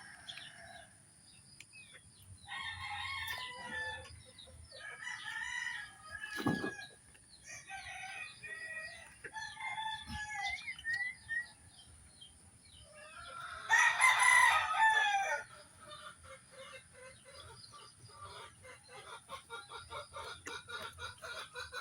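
Rooster crowing and hens clucking during a chicken-bathing session, with several overlapping calls through most of the stretch and a louder, nearer crow burst midway, set against faint background noise.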